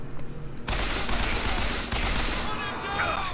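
Rapid bursts of gunfire from a gun in BioShock Infinite, loud and dense, with overlapping shots forming a sustained fusillade and a player voice talking over it.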